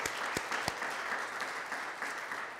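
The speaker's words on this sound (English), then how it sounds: "Let's give God a hand clap of praise." A church congregation gives a short burst of applause in praise, dense hand clapping filling the room with a few sharper claps standing out near the start.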